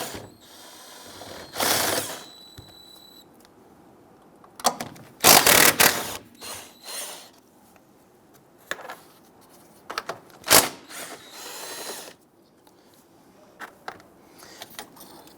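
Hand tools working 13mm nuts off the strut tower of a 2011-2021 Jeep Grand Cherokee, giving scattered mechanical ratcheting bursts and clicks with quiet gaps between them, fairly close and moderately loud.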